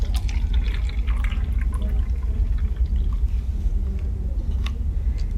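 Hot water is poured into a cup to about half full, making a continuous splashing, trickling pour that stays steady and fairly loud throughout.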